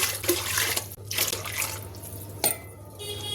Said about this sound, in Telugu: ఇప్పుడు 5 గ్లాసులు నీళ్ళు వేస్తున్నా